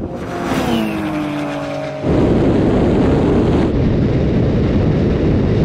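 Racing cars roar at full throttle through a half-mile run, one of them a Porsche, a steady loud engine drone that jumps even louder partway through and holds with heavy rumble.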